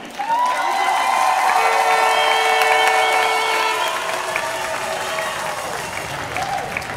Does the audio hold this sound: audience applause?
yes